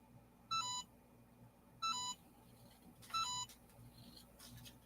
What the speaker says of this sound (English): Don't you beep at me, you thing